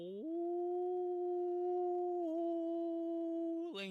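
A single long wolf howl, loud and close, holds a steady pitch for about three seconds before breaking off, with no talk around it.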